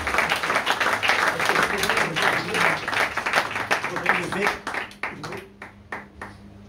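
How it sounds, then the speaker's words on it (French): At a church gathering, an audience applauds its pastor in a thick burst of clapping mixed with a talking voice, thinning into a few scattered, separate claps before it stops. "Est-ce qu'on peut applaudir votre pasteur?"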